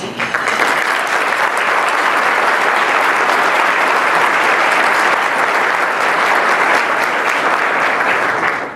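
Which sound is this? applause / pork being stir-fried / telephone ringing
applause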